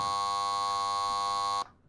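Cab alerter alarm of an EU07 locomotive in a train simulator game, a loud harsh continuous buzzing tone that cuts off abruptly after about a second and a half.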